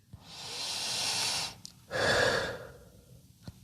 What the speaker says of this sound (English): Sometimes you need to breathe twice, for real.